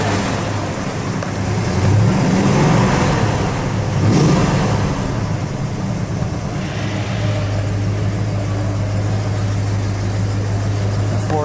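A 1969 Dodge Charger Daytona in Hemi Orange with a 440 V8 and 4-speed rumbles loudly up close, swelling in brief revs early on before settling into a steady, throbbing idle.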